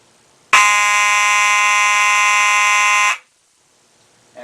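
A Simplex 24 volt fire alarm sounds on a continuous pattern, a loud, steady, harsh electronic buzz lasting about two and a half seconds before cutting off sharply.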